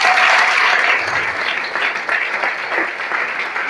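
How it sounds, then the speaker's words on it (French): A church congregation applauds loudly and continuously during a service, a dense roomful of clapping that eases slightly toward the end. "Si tu nous entends, acclame fortement le Seigneur."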